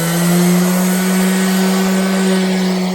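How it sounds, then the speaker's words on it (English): A power sander runs on a surface with a loud, steady motor whine and an even, buzzing hum that holds without pause for the whole stretch. "you always want to start the sander when it's already in contact with the material"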